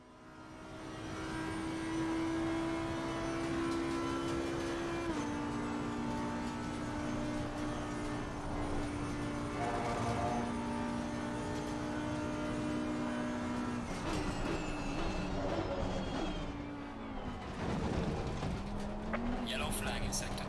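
Racing car engines howl in a racing video game, a Ferrari leading the pack, with sustained high-revving drones shifting pitch through gear changes, loud and continuous, over excited commentary from a player.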